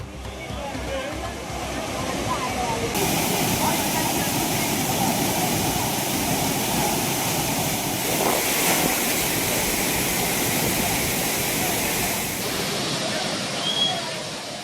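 Courtallam waterfall, with tourists bathing at the falls on a holiday, pours in a loud, steady, broadband roar that fills the whole stretch without a break.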